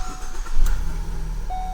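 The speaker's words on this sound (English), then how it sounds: "This will trigger the LC Pro to start the vehicle." A 2015 Ford Focus turns over and fires up through an LC Pro remote start, a short engine crank that swells into a steady low idle, heard up close.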